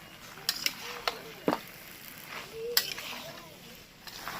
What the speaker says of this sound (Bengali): এইবার এটাকে নাড়াচাড়া করতে পারবো ওপর নিচ করে ভালো করে পুরোপুরি মজে যাবে